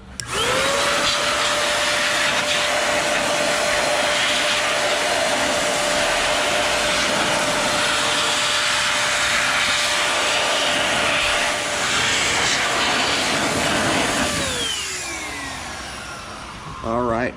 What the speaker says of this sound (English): now I'm going to grab my air dryer. We're going to blow this thing dry